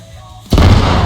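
A loud, sudden explosion in a military video game bursts out after a quiet half second, a single broadband blast with a sustained rumbling tail.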